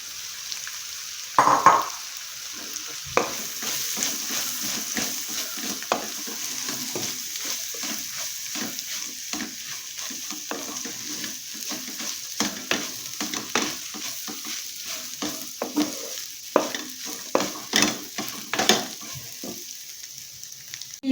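Crushed beef frying in a pan for beef chathachu ularthiyathu, a soft constant sizzle broken by repeated scraping stir strokes and clatters, close and without voices.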